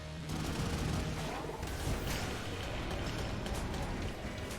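Dense, continuous volley of gunfire from a Yari launcher in the game Enter the Gungeon, a steady roaring barrage with no clear gaps between shots.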